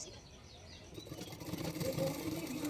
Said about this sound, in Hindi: मैंने शोल्डर को 1/2 इंच मार्जिन रखकर सिलाई कर रही हूँ